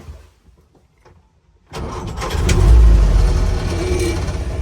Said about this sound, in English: Press the starter button and it settles down to a nice idle.